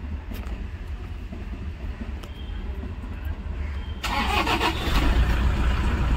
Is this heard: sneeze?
no